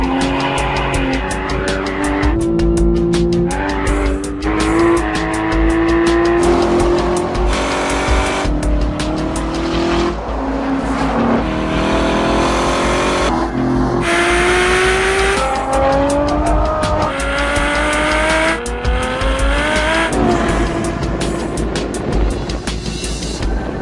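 High-performance sports cars, including a Ferrari F12, Corvette C7 and Porsche 911, lapping Laguna Seca raceway, loud revving engines rising and falling through gear changes with recurring tire squeal in corners, continuous with no talk.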